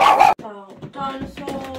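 A dog barks sharply once up close, then a person starts talking.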